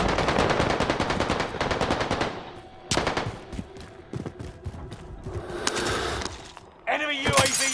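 Rapid automatic gunfire from the Call of Duty: Modern Warfare online match, loud and dense at first, then scattered shots and impacts, with players talking over the action.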